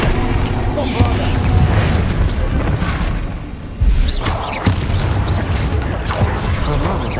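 Explosions from the Bombarda blasting spell in Hogwarts Legacy, several loud booming blasts with crashing debris over rumbling combat noise, one heavy hit standing out midway, and a voice talking at points.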